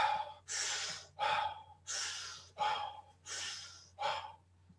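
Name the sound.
strong rhythmic breathwork breathing demonstration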